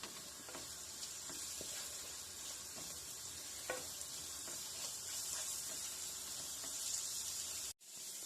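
Onions sautéing over a medium flame in a pan for a homestyle Kerala chicken curry, a steady close sizzle with occasional scraping stirs, cutting out briefly near the end.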